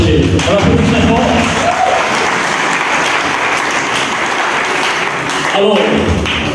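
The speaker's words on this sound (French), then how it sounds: "On applaudit très fort." At a live show, an audience breaks into loud applause, which swells and holds steady in the middle. A presenter talks at the start and again near the end.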